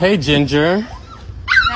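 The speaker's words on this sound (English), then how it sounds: "Bro, that's my dog." A dog whimpers and gives short, high yips close by, a burst at the start and another at the end, while a person speaks over it.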